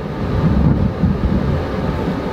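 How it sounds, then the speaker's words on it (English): Deep, sustained low rumble of thunder rolling through an outdoor storm, steady and fairly loud across the whole stretch with no voices. "And the thunder rolls."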